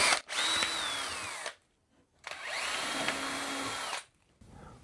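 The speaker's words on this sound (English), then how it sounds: "Now I can just drill through the centre of these and we get them on the wall." A power drill bores through the centre of magnetic knife or saw rack pieces in two long, steady whining bursts, close and loud, separated by a short pause and followed by a brief start of a third.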